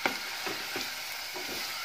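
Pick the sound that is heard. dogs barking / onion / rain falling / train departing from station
onion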